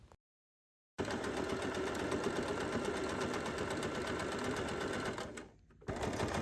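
After a short pause, a sewing machine whirs continuously and close up, stitching pocket lining to the main fabric of a fanny pack, with a brief dip near the end.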